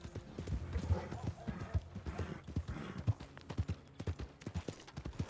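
A horse's hooves clip-clop at a steady trot through the muddy western town of Valentine in Red Dead Redemption 2, each beat crisp and close with a faint background bed.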